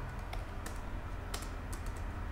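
Quiet computer keyboard typing, a short run of soft scattered keystrokes at an irregular pace, close and faint with no talk.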